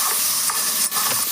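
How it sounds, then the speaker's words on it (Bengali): Fish pieces coated with turmeric and salt fry in hot oil, a loud, steady close sizzle with bursts of spattering crackle and no talk. "কেটে ধুয়ে রাখা মাছগুলোকে তেলের মধ্যে দিয়ে লাল লাল করে ভেজে নেব"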